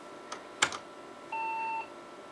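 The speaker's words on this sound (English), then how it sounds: "we get a little beep from the internal speaker" A single short, steady electronic beep from a PC internal speaker, triggered by the DOS Christmas virus, preceded by a couple of faint clicks in a quiet room.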